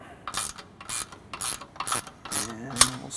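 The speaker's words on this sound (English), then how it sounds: "then you can just start working on that nylock nut" A hand ratchet turns a 13 mm nylock nut onto a bumper bolt on a 2014+ Toyota Tundra during a front bumper install, sounding as a series of close, crisp clicking bursts in a steady back-and-forth rhythm.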